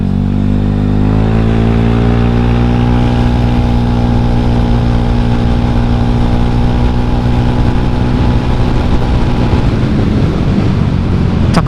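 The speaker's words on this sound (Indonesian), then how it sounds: "Terus suara knalpotnya juga gue suka banget" A Honda Scoopy scooter's engine and exhaust drone loud and close while riding, a steady low hum with a pitch that climbs smoothly under acceleration and then holds an even buzz.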